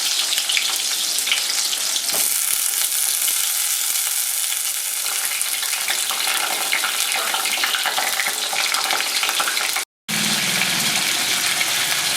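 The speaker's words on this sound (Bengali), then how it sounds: "এরপরে আমি পটলটা ভাজবো" Spice-stuffed pointed gourd (potol) frying in oil in a pan, a loud, dense, steady sizzle and crackle up close, broken by one brief silent cut near the end.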